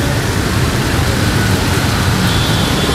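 Rain falling during a downpour at a street bánh xèo pancake stall, a dense, constant hiss of drops that stays loud and even throughout with no talking.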